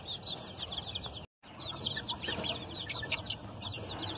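A group of small chicks peeps with rapid, high chirps overlapping continuously at close range, broken by one brief dropout of silence.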